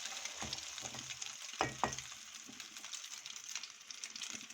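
A slice of French toast frying in oil in a pan over low flame, with steady faint sizzling crackle and a few louder pops and clatters near the start.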